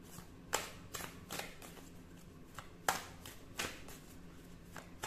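A deck of oracle cards being shuffled by hand: several quick papery riffles and taps, fairly close but soft, in uneven bursts with short pauses between them.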